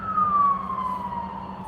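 An emergency vehicle siren in the background near a railroad crossing, one falling wail heard at a distance over a low steady hum.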